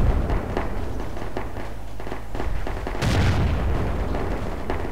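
Mortar explosions in Project Reality, a military video game, booming repeatedly over a dense wash of battlefield noise, with a heavier blast near the end.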